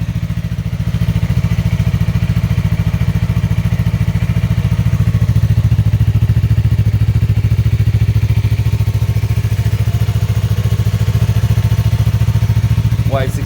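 Steady, deep idle of a 2020 Yamaha MT-03/R3 motorcycle with a Two Brothers Racing slip-on exhaust runs throughout, a low throbbing rumble close to the microphone with faint clatter on top.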